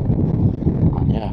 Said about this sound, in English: As you can see, very windy.